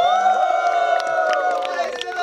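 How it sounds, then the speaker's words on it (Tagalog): An open-air worship gathering by a river breaks into shouting and cheering, sustained overlapping voices with scattered sharp claps mixed in, close and loud throughout. "Palakpak na may kasamang sigaw!"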